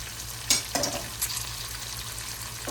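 Fresh garlic hits a hot pot with other food and fries, a soft continuous sizzle with a couple of sharp clinks and stirring noises close by.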